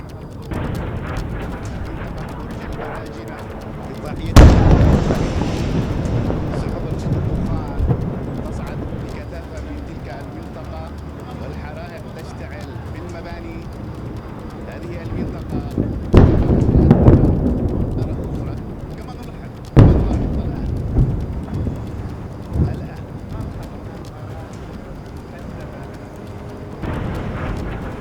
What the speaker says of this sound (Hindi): धमाके की आवाज आप सुन सकते हैं।